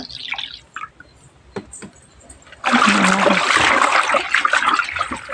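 Water poured into a pot while cleaning brass items, a few faint drips at first, then a loud, steady stream from the midpoint onward.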